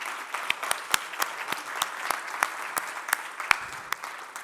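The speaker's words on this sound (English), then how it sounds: "So a big clap for those who are here," Sparse applause at a professional association meeting honours representatives, with distinct individual claps popping out irregularly over a thin background of scattered clapping from a small audience.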